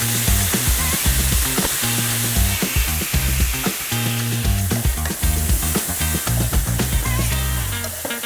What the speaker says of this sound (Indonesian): sekarang kita langsung tinggal tumis baladonya